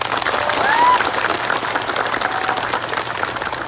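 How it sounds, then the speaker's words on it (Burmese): Crowd applause at an outdoor gathering in Kayah State, dense continuous clapping from many hands that stays fairly loud throughout, with a faint voice or whistle briefly rising over it. "သူတို့တော့လက်ခုပ်တန်လေးကြားချင်ပါတယ်"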